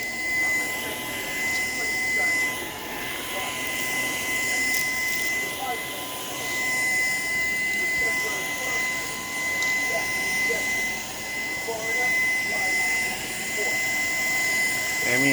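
A Shark PowerDetect vacuum cleaner runs continuously near a rug, a steady droning whine with a thin high tone, while a voice talks over it.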